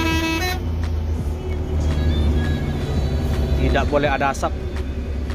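Inside a moving bus, a steady engine drone and road rumble run beneath people talking, with a short horn toot breaking through near the end.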